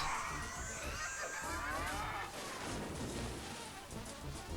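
A cartoonish cow moos in the video game Rabbids Go Home, a long bellowing call that rises over busy game effects and background clamor.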